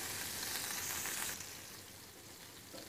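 Paneer fries lightly in a spoonful of hot oil, a steady soft sizzle that drops a little in intensity partway through, quiet and close.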